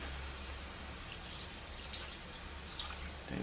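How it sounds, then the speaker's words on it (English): Shiitake soaking water pours steadily into a pot of rice, a soft continuous trickle and splash at low volume with no talking. "now I'm adding this shitake water"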